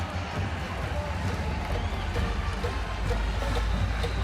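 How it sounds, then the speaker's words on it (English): A stadium crowd at Michie Stadium cheers and roars steadily during an Army football game, a broad sustained wash of noise that swells slightly toward the end. "the crowd gets going on their feet here at Michie Stadium"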